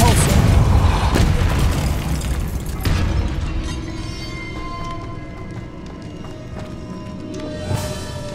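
Depulso force spell cast in the Hogwarts Legacy video game, a loud booming blast with heavy low rumble that decays over a few seconds, followed by quieter game ambience and a second softer thump near the end.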